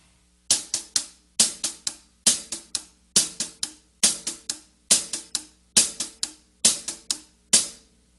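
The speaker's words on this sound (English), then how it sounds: "I've put hi-hat strokes on the 1 E and, 2 E and, 3 E and, 4 E and." Hi-hat struck in repeating groups of three sixteenth notes per beat, each group leaving a gap; crisp, close, evenly spaced ticks with a short decay, played alone with no other drums.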